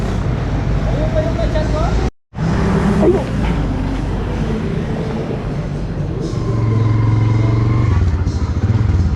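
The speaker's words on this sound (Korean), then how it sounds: "필리핀 매니저 오토바이 뒤에 타고 마갈랑이란 지역으로 이동 중입니다." A motorcycle carries a rider pillion through traffic in the Philippines, its engine droning loud and close, wind and road noise running almost unbroken with one brief dropout, other vehicles passing around it.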